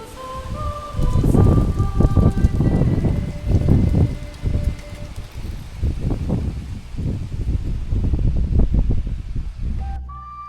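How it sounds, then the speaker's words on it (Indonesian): Gusty wind roars steadily, with a low rumbling, engine-like tone and rustling that swell and fade over several seconds. "Ya ampun, ini ternyata suara angin."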